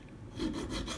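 A file rasps across a bone guitar nut for a Les Paul, a single short gritty scraping stroke, close and quiet, with no voices.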